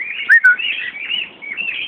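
Birds out feeding chirp and tweet in bright, close calls, with a couple of sharp rising notes early on over a continuous twittering.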